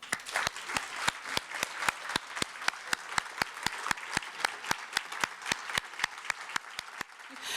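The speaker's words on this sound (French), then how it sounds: "j'aimerais que l'on applaudisse" Audience applause at a regional Christmas tourism conference, heard as a steady run of sharp, regular claps that stays moderately loud from start to finish and then fades out at the end.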